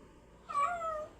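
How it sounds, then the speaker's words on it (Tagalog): A house cat gives one clear, close meow that rises and then trails off against a quiet indoor background. "yung pusa ako nagtatawag"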